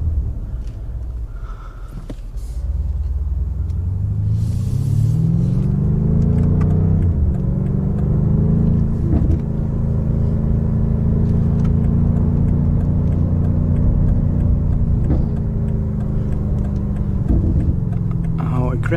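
A BMW M5 Competition with xDrive revs up and holds a strong, steady roar as it accelerates on a wet road at night, loud and close, with a brief lull before the pitch climbs again.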